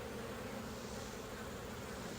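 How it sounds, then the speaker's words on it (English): Honeybees buzz thickly around an open hive during an inspection, a dense continuous hum filling the air at close range with no talk. "Wow, there's a lot of bees here."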